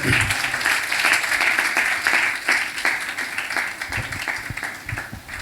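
Congregation clapping at a Punjabi church service, a steady wash of applause sustained throughout and easing slightly toward the end, with a faint voice mixed in.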